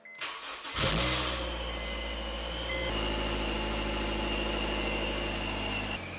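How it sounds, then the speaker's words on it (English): A supercharged Honda S2000 engine cranks briefly, catches and flares to a loud rev, then settles into a steady, close idle with a faint whine throughout, no talking. "I'm gonna go in there and start the car."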